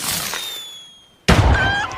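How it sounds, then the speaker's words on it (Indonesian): A firecracker thrown in a kung fu comedy film, heard as a sudden loud bang followed by a dense crackling burst that runs about a second. "Sing berpura-pura memanggil bala bantuan dengan melempar petasan"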